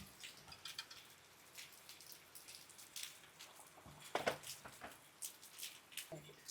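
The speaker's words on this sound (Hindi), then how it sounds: "ऐसे रिमझिम बारिश चलती रहे" Light drizzle falls outdoors in the mountains beside an open-air cooking spot, a faint soft patter with scattered drip taps, quiet and close, with a few louder knocks.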